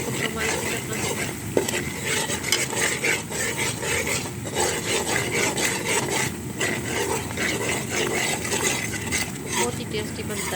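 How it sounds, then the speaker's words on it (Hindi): Almond halwa with semolina and gram flour being stirred and roasted in a pan, a steady scraping and rubbing of the spoon against the pan over a soft sizzle, continuous and close throughout. "इसे हम अच्छी तरह भूनेंगे। हिलाते रहना है आपको"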